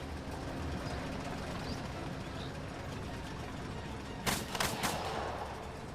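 Gunfire in Second Front, a hex-based squad-level tactics game, comes as a few sharp bursts of shots near the end, over a steady low rumble of battle noise.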